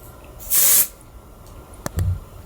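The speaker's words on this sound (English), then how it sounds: "This is like lightweight hairspray and a texturizing spray in one." A single short burst of lightweight hairspray with texturizing spray from an aerosol can, a close loud hiss lasting about half a second, followed by faint handling clicks and thumps.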